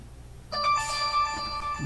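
A phone's ringtone goes off at midnight during a craft session on a black velvet botanical folio, starting abruptly after a quiet lead-in as a bright, steady electronic melody of sustained tones with no voices over it.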